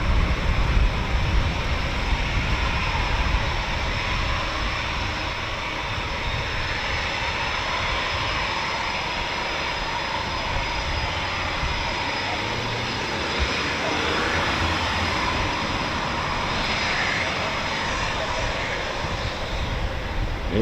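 Eurofighter Typhoon FGR4 fast jet departing RAF Coningsby, a loud continuous broadband roar that holds steady throughout, starting strongest and staying close, with a voice occasionally talking over it.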